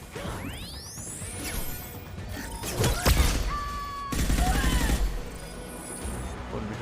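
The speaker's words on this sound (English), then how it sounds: "me jogaram uma flashbang" A flashbang grenade going off during combat in Mass Effect 2, with whooshes and a rising whine before a heavy burst of blasts and clatter, then a second loud surge, amid game effects.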